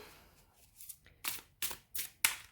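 A Superlunaris tarot deck with a matte finish is shuffled by hand, four or five crisp riffling bursts in quick succession, close and clear with no talking.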